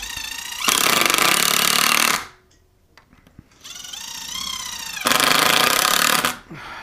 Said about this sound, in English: You don't want to drill too far because you'll come out the other side since it's 3 inches